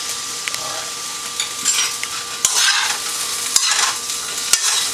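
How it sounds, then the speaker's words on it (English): Sautéed edamame being stirred in a hot pan, a steady close sizzle with a few sharp clicks and scrapes of a utensil against the pan, no talk. "Give it a nice quick stir."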